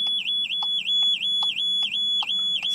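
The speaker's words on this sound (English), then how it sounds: "Anti-theft alarm has detected movement on the outer casing." A Skoda car's anti-theft alarm sounds with loud, rapid repeating electronic beeps, about eight evenly spaced chirping pulses in under three seconds, with no voices.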